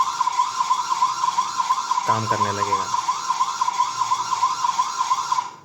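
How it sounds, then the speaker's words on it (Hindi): A smart camera bulb's alarm siren gives a loud, fast, steady electronic warble. It carries on through the whole stretch while someone talks briefly over it partway through. "जो सायरन बजता है कैमरा बल्ब में वो मूवमेंट को देख कर डिटेक्ट करके होता है।"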